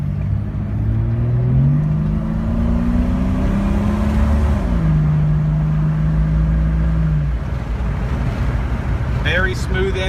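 A lifted Jeep Cherokee XJ Sport engine revs up and climbs through smooth automatic gear shifts, its tone rising then dropping, with steady wind noise over the microphone.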